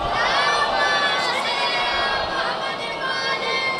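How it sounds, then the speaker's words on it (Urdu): A congregation at a majlis aza gathering recites salawat aloud in unison, a dense, loud wash of many voices chanting together, sustained throughout. "تمام دعاؤں کی قبولیت کے لیے ایک مرتبہ مل کر بلند آواز میں صلوات تلاوت فرما دیں۔"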